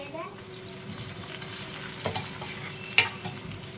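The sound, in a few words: curry leaves and spices frying for fish curry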